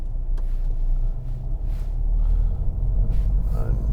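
Volvo V40 Cross Country D2 diesel, 2016, manual six-speed, leaving ice for tarmac: a steady low in-cabin road and engine rumble, loud and continuous, with a voice talking over it.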